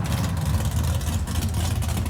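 A car engine idling at a standstill in the racing game Forza Horizon 5 gives a steady, deep, low rumble that stays loud and continuous throughout, with no voices over it.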